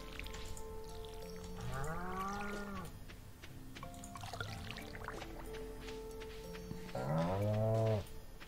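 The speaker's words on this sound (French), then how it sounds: "Ah, j'ai nourri les vaches, ouais." Cows in the Stardew Valley farming game give two clear, drawn-out moos, one early and one near the end, over a quiet farm ambience with soft water-like sounds and no speech.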